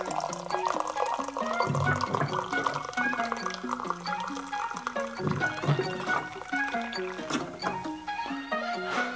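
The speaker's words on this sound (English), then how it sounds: "Just get it from our water cooler with the hot water feature." Hot water runs from the hot-water tap of a water cooler into a container, a continuous close gurgling trickle with shifting pitch as it fills, heard alone.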